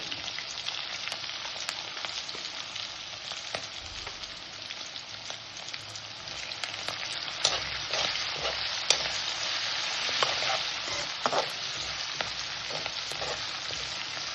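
Cumin seeds, curry leaves, green chillies and a pinch of asafoetida frying in hot oil for a cabbage mustard curry, a steady close crackling sizzle with occasional sharper pops and stirring scrapes, no voices.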